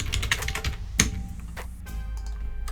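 Typing on a computer keyboard while building a sales funnel page, with quick bursts of key clicks at close range, a brief pause and one heavier keystroke, then more light tapping.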